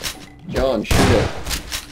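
Bursts of video game gunfire crack loudly in quick succession, mixed with a voice talking over the shots.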